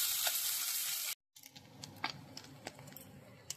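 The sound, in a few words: desi tengra fish frying in a pan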